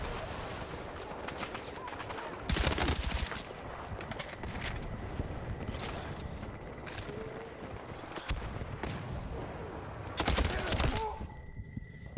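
Bursts of gunfire in Battlefield 6, loud sharp volleys near the start and again near the end, with scattered crackling shots between them and quiet talk underneath.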